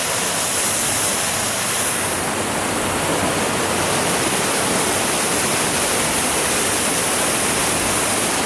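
Steady, loud roar of a waterfall on the American River, broad rushing water noise filling the whole clip without pause and with no voices.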